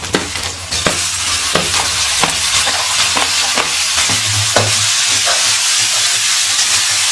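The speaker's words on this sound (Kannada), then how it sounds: "ಟೊಮೆಟೊ ಚೆನ್ನಾಗಿ ಫ್ರೈ ಆಗಿದೆ." Chopped tomatoes fry loudly in a pan of oil for sambar, a steady dense sizzle and hiss broken by repeated scraping stirs of a spoon, close and continuous with no talking.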